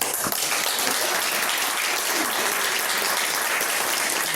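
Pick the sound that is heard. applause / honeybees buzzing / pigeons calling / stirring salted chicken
applause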